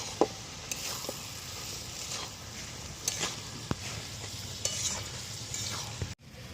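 Spice-coated elephant foot yam stems are stirred in a frying pan, giving a constant soft sizzle with scattered scraping clicks from the spoon, close and alone.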